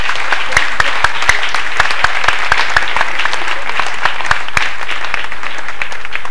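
Steady, loud applause from a church congregation, dense and continuous clapping filling the hall with no voices standing out.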